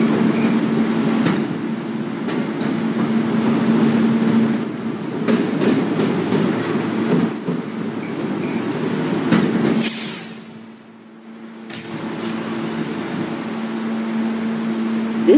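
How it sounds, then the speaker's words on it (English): An F Express subway train bound for Jamaica 179th Street runs through 21st Street–Queensbridge station, a close, steady rumble and hum with clanks, a brief quieter gap, then the rolling noise resuming. "179th Street bound F Express train"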